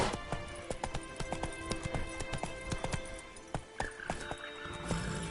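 Roach, the horse in The Witcher 3, gallops with a fast, regular clatter of hoofbeats over game ambience, close and fairly quiet.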